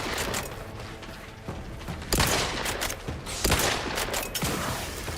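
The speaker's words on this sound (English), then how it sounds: "I feel like those two shots should have hit." Gunfire in The Outer Worlds 2, with a couple of loud sharp shot bursts over busy mechanical clatter and ratcheting game effects, no talking.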